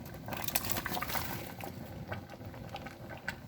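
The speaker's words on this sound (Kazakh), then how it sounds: "Морковта қайнап жатыр." Carrots and tomatoes bubbling in a pot for lecho, a soft, continuous wet burble with small popping bursts, faint and close, with no voices.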